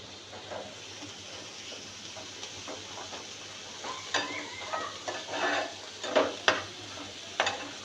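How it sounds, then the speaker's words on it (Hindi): Two chopped bell peppers fry briefly in a pan for white sauce chicken pasta, a soft steady sizzle with a few louder stirring scrapes and clinks toward the end, no voices present. "और इन्हें तकरीबन 1 मिनट के लिए ही फ्राई करेंगे।"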